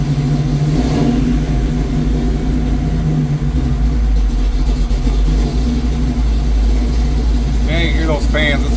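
A truck engine running on its first start in two months, holding a steady loud idle with a rise in revs, while a person talks over it.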